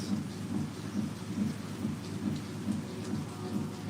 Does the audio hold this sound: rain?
yes